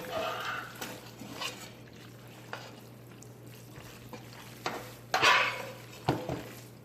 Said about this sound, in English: I'm just going to add in the meat.